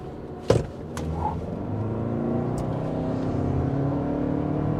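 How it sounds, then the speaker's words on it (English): A 2024 Toyota Grand Highlander Hybrid with all-wheel drive launches hard from a stop toward 60 mph, a sharp thump followed by a steady, building engine and drivetrain roar heard from inside the cabin. "let's go ahead and see what we can get"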